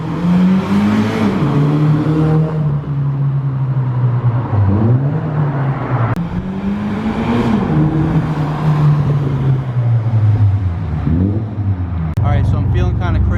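A Scion FR-S with an Invidia N1 catback exhaust drives past repeatedly, its note rising and falling as it accelerates by, loud and close, with a rasp building near each pass.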